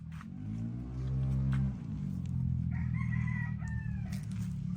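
A rooster on a Philippine livestock farm crows loudly and nearby, a long drawn-out call, followed by softer clucking and faint bird sounds.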